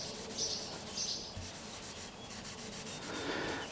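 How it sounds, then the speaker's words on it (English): A rag rubs linseed oil into a wooden guitar neck, giving a soft continuous scrubbing swish close by, with faint bird chirps in the background. "just a little bit of linseed oil on a rag and rub it into the surface"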